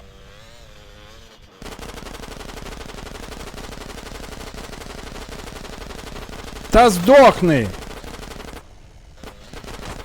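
Rapid, continuous automatic gunfire in GTA San Andreas rattles steadily for several seconds, with a shouted voice and a brief louder burst near the end.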